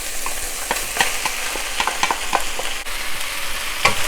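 Eggplant frying in a wok with Sichuan pepper powder, a steady close sizzle broken by repeated scraping and clinking strokes of a spatula as the pieces are stirred and tossed, no talking.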